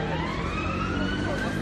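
Police car siren wails outside a mosque, a rising and falling tone heard at moderate distance over street noise.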